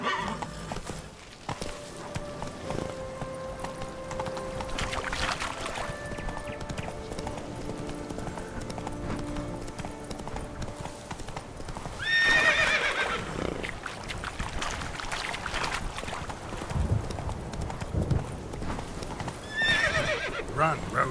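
Roach, the horse in The Witcher 3: Blood and Wine, pounds along in a steady galloping clip-clop, close and rhythmic, with snorts and whinnies breaking through amid music and ambient game sounds.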